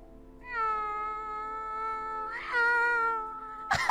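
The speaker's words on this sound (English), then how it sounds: "That's his meowing." A cat gives one long, drawn-out meow close up, then a second rising meow, with a brief sharp noise at the end and no talk.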